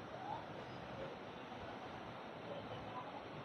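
Fast-flowing water rushes through Mandira Dam near Rourkela, a steady, dense roar that stays level and unbroken from start to end, with no talk over it.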